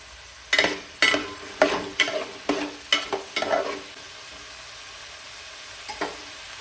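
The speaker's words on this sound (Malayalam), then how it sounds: "എണ്ണ ചൂടായി എന്നപ്പോൾ ഞാൻ ഇട്ട് കൊടുക്കുന്നുണ്ട് ഇനി അതൊന്ന് ഫ്രൈ ചെയ്യുക" Bitter gourd slices hit hot oil in a pan for a Kerala-style pickle, giving a run of sharp sizzling crackles and stirring scrapes over the first four seconds, then fading to a quiet hiss with one last soft crackle.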